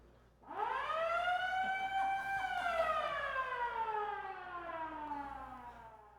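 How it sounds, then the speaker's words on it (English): A single air raid siren winds up quickly and then holds a long wailing tone that slowly falls in pitch, heard alone and fairly distant. "That is an air raid siren."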